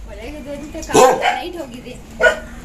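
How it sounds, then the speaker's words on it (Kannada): Rescued stray dogs barking in a house shared with many dogs, a few sharp close barks and yips spaced irregularly, mixed with a person talking nearby. "ನೋಡಿ ಎಲ್ಲ ಇಲ್ಲಿ ಸ್ವಲ್ಪ ನಾಯಿಗಳಿದಾವೆ ಸ್ನೇಹಿತರೆ, ಮತ್ತೆ ಒಳಗಡೆ ಇದಾವೆ ನೋಡಿ"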